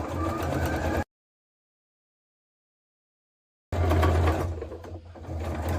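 A domestic sewing machine runs stitching fabric for a kitchen-themed handcrafted piece, a steady close motor whir that stops abruptly for a few seconds of silence, then resumes at full loudness.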